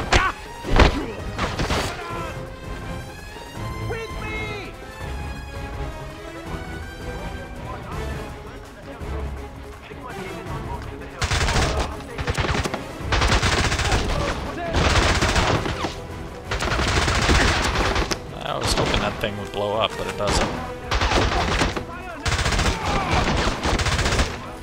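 Rapid gunfire from the James Bond 007: Bloodstone video game, bursts of automatic shots and thuds over game music, with a voice talking over the action throughout.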